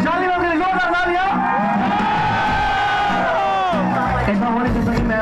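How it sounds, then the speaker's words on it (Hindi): An audience at a college music performance cheers and whoops, with loud sustained shouting voices rising over a crowd din that fills the whole stretch. "शाली मैम के लिए जोरदार तालियां।"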